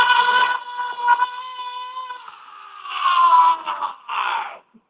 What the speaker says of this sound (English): So the scream is hard on your voice.